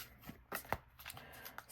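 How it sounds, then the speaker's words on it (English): A deck of tarot cards is shuffled by hand at close range. Soft, irregular bursts of riffling and sliding card noise repeat across the moment, quiet and with no voices. "I like you seeing me actually shuffling my cards"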